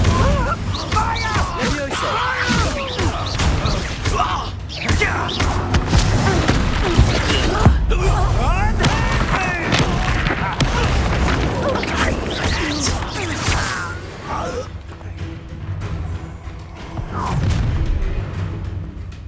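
Stupefy and Incendio spells strike in a Hogwarts Legacy battle, a flurry of booming magical impacts, crashes and whooshes mixed with voices shouting incantations and combat dialogue throughout.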